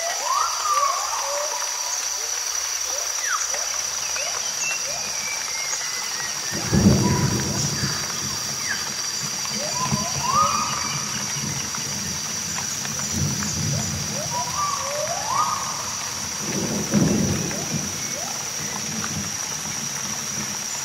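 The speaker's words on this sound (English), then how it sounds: "The rain is very heavy now." Heavy rain falls in a tropical forest, a constant dense wash with a high steady insect-like tone above it and a few louder low rumbling surges.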